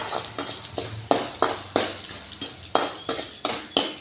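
Black urad dal frying in oil in a village kitchen, sharp rhythmic spoon strikes against the pan over a soft sizzle, repeating roughly every third of a second, close and clear.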